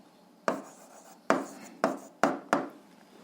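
Five short scratchy strokes of a pen writing down an answer on paper, close and fairly quiet, each a brief rasp separated by small pauses.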